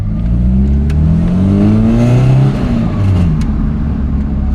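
A VW Mk2 Golf engine runs up close after a short shifter kit fix, revving loudly with rising and falling pitch sweeps before settling back toward a steady hum.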